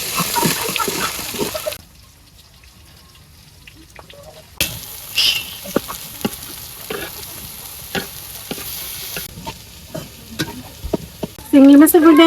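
Blended shrimp paste fries in a pan, opening with loud sizzling, dropping to near quiet, then a run of spatula clatters and scrapes before a sharp, loud burst of sizzle near the end; no talking.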